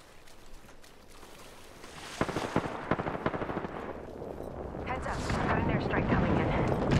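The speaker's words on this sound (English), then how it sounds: "They're shooting somebody else." Gunfire in the video game Apex Legends: rapid machine-gun bursts and sharp cracks rattle out at mid-distance, growing louder and denser toward the end beneath a player's occasional talk.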